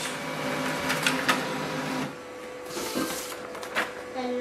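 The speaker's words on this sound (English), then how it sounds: "I'm just going to print a photo in black and white." Brother HL-L2360DW laser printer printing a black and white photo, its feed mechanism whirring and humming close by, with the motor tone shifting partway through as the page moves.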